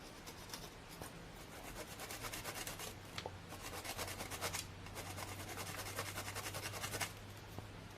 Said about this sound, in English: I'm going to scrape through this surface here, and then I'm going to get to some part that might be edible.